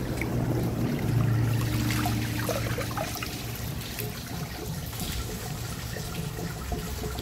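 A 1983 American Standard Baby Devoro toilet gurgles and trickles after a flush without siphoning, water running and dribbling at moderate volume with a faint low hum early on, fading to a steady trickle.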